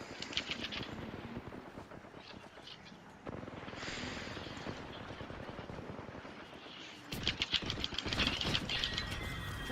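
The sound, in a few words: gunfire in the video game Apex Legends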